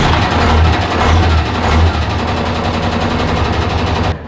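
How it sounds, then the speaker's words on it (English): A 1992 Hino GS or 1991 Hino FS truck's diesel engine turns over and runs, a loud, steady low rumble with rapid chugging pulses that holds for about four seconds before cutting off abruptly. "I'm just going to start it up just to give you a quick sound of the engine."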